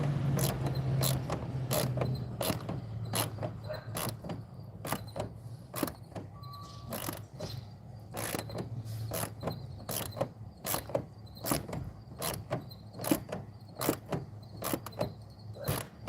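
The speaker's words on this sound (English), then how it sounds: "just choke up on your ratchet and your wrenches for these" A ratchet tightens fasteners on a 1998 Chevy K1500 extended cab, giving rapid bursts of sharp clicking in an uneven rhythm, close up, with quiet pauses between strokes and no speech.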